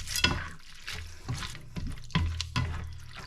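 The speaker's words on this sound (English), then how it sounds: "Give this all a good stir together." Macaroni being stirred around a frying pan, giving several scraping, sloshing strokes in a wet mix at close range, with short pauses between them and no voices.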